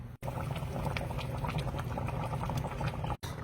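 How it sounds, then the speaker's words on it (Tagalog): Balbacua stew with banana and star anise simmers in a pot, a steady close bubbling boil with soft popping and liquid patter throughout, no voices. "Okay mga boss, papakuluan lang natin yan."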